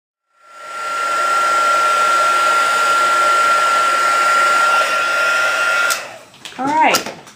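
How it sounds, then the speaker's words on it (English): A heat gun blows steadily over embossing powder, a constant airy whirring hum with a faint tone that runs for several seconds, then cuts off as a short voice is heard. "let's heat this up and see how it looks after it's embossed"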